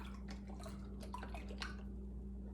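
A dark mushroom broth is poured into a pot of vegan stew, with faint splashing and dripping over a steady low hum.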